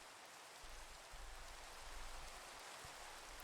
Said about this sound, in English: It's just raining.